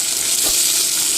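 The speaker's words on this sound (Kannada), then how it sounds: "ಈಗ ಬದನೆಕಾಯಿ ಸ್ವಲ್ಪ ಫ್ರೈ ಆಗಿದ್ದಾವೆ" Eggplant pieces frying in hot oil in a home kitchen, a steady close sizzling hiss with a single soft stir or clunk midway through the short stretch.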